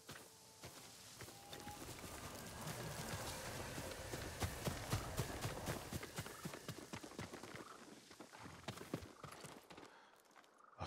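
A farm horse's hooves clip-clop in the video game Ghost of Tsushima, a steady walking rhythm of distinct hoof strikes, fairly close, alone without talk and fading near the end.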